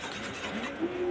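Pigeons coo softly in a loft where squabs have just hatched, a close, steady murmuring call with no talking.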